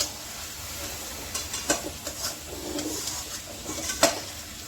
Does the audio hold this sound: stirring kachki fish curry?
yes